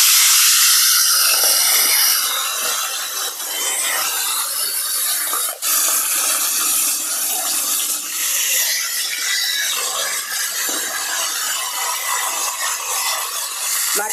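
Fish sizzling steadily in hot oil while cooking a tilapia and koi fish curry, a continuous loud hiss and crackle with no talking.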